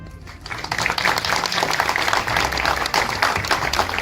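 Audience applause fills a movie premiere, a steady loud wash of clapping from a crowd that starts just after a brief quieter moment and carries on throughout, with some voices mixed in.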